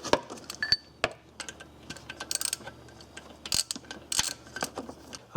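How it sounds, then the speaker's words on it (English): Metallic ratcheting and clicking from a wrench tightening bolts on the intake manifold of a 2004 Ford Crown Victoria, in short irregular bursts with sharp clanks, close in a quiet workspace with no talking. "So we're tightening two bolts"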